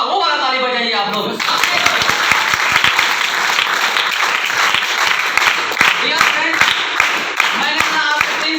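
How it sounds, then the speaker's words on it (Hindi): An audience at an indoor talk bursts into loud, sustained clapping after a voice speaks briefly at the start, the applause holding steady with scattered sharp claps and faint talk mixed in. "वो वाला ताली बजाइए आप लोग।"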